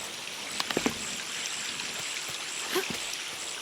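Flowing water that powers a bridge in the Shadow of the Tomb Raider video game, a steady trickling stream with a few brief clicks and splashes, alone.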